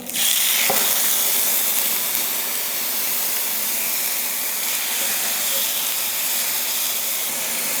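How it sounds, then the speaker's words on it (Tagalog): A pork chop sizzles in hot avocado oil in a wide pan, a loud, steady hiss that flares as the meat goes in and then keeps crackling evenly. "So, kapag nagpiprito tayo ng pork chop, natural yan na lalabas yung liquid galing dito"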